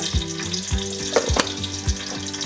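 Fenugreek and mustard seeds sizzle and crackle steadily in hot oil, close by, with a few soft low knocks repeating about every half second, as for a fish curry.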